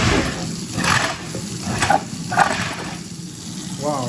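A faulty household garbage disposal running with water, giving a continuous rough churning roar with uneven surges, while a voice talks over it.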